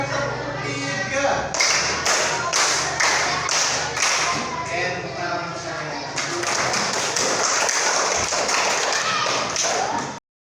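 Rhythmic group hand clapping in a classroom, counted patterns of two and three claps repeated in bursts, loud and close, with voices of a teacher and children calling the counts between claps.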